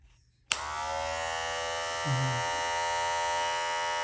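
A Wahl Multi Cut electric hair clipper switches on with a click and runs with a steady, even buzz, briefly shifting in tone partway through.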